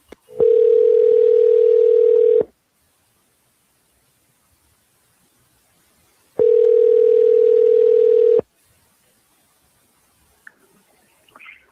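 A phone call ringing out, with two long steady ringback tones about two seconds each, separated by a few seconds of near silence, loud and clear through the handset, and faint clicks near the end.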